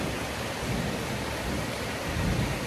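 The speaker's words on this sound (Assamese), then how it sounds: "বাহিৰত একদম ধাৰাসাৰ বৰষুণ।" Heavy rain pours steadily outdoors as a dense, even hiss that stays loud throughout, with a low rumble of thunder rolling underneath.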